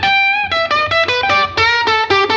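Electric guitar played through amp simulator plugins with plate reverb for a blues tone, a run of about nine distorted picked notes in a steady rhythm, close and loud with a short reverb tail.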